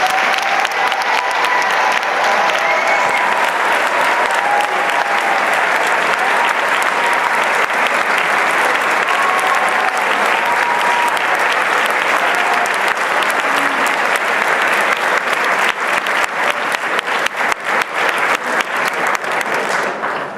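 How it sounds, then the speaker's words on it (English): Sustained applause from a large crowd at a high school spring concert, loud and steady throughout, with clapping that grows slightly more scattered toward the end. "let's give them a round of applause"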